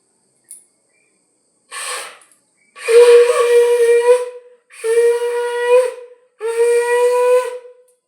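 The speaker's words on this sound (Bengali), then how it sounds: "দেখো বন্ধুরা, শঙ্খ বাজিয়ে দিচ্ছি।" A conch shell is blown during a puja at a Sree Sree Thakur Anukul Chandra temple: after a short breathy start, three long, loud, steady harmonic blasts sound in sequence, each held about a second or more, with brief gaps between.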